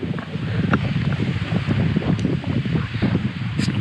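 Strong wind buffets the open slopes of a dormant Caribbean volcano, Mt. Liamuiga, on a jungle hiking trail, a loud steady roar of gusts rumbling across the microphone without a break and no voices.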